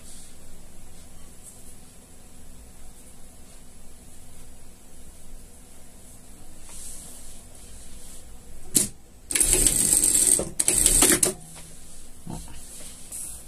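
A sewing machine runs a safety stitch through acrylic padding on a small pet slipper: quiet room tone, then a couple of close bursts of rapid mechanical whirring and clatter lasting about two seconds.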